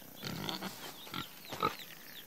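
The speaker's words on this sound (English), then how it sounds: "Oh my gosh, look at these pigs." Cartoon pigs in an animation oink and grunt in several short bursts, fairly close and clear, with no talking over them.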